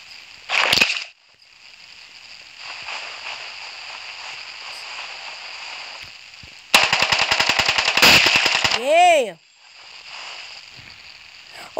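Video-game gunfire: a rapid burst of automatic shots crackles loudly mid-round after an early single blast, followed by descending whooshing effects, no talk.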